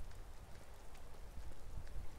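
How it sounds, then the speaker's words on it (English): Steady rain in the video game Skyrim hisses softly and evenly throughout, a quiet continuous wash with no voices. "They're going inside because it's raining."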